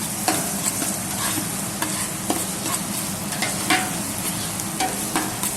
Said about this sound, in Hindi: अब मैं इसके अंदर जिंजर गार्लिक का पेस्ट ऐड करूँगा।